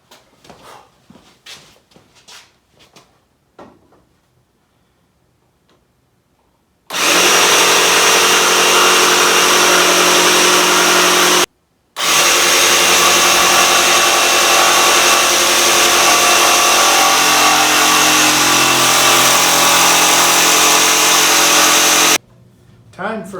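A loud power saw cuts a curved notch into a wooden piece for a bedroom table, a steady roaring whine lasting about fifteen seconds with one brief pause. Quieter talking and handling noises come before the cut.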